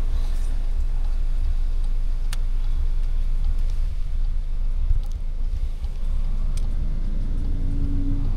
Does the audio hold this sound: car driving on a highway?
yes